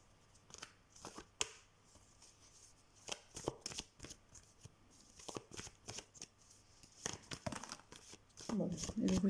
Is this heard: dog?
no